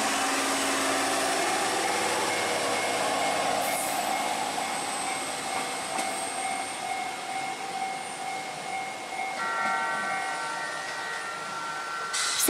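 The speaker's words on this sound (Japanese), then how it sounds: "規則的に鳴り続ける踏切の音が役目を終え、力強いエンジン音と汽笛もトンネルの中に消え" A train leaving remote Koboro station in Hokkaido rumbles with a steady, strong engine drone and high ringing tones as it heads into a tunnel, holding fairly loud and then easing slightly toward the end.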